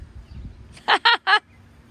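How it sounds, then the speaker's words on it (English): A duck in an Indiana garden gives three short, loud honking quacks in quick succession, close by, over quiet outdoor background. "Watch this duck, it'll bite."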